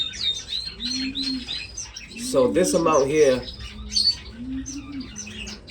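Pet finches in a bird room chirp and tweet steadily in the background, with a soft cooing call repeating low underneath, while someone talks close by over the birds.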